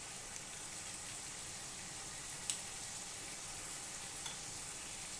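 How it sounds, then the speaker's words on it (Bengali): Tomatoes stirred and fried in a pan for palak chana, a steady broadband sizzle with soft scraping stirs throughout and a couple of brief clinks, no talking. "2-3 মিনিট ধরে নেড়ে চেড়ে টমেটোটা নরম করে নেব।"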